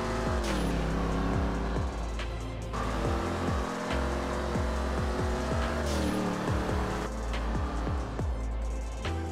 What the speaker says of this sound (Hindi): टायर बहुत रगड़ जाता है भाई इन गाड़ियों का।